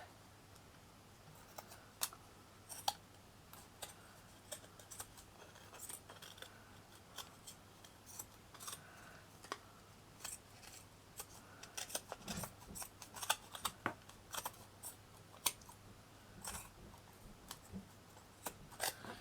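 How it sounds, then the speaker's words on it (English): Scissors snip repeatedly through material while finishing a mixed media key plaque craft piece, sharp close cuts scattered irregularly over a quiet room background with no talking. "Just cut that off."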